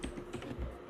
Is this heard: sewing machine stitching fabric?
no